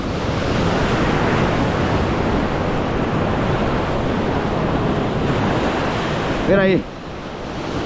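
Tide waves breaking on rocks at Buraquinho beach, a steady loud wash of surf with wind noise throughout, and a brief spoken voice near the end.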